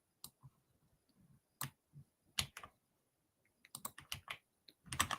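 Someone types on a computer keyboard: quiet, irregular clicks and taps, some single and some in quick clusters, close by in an otherwise silent room.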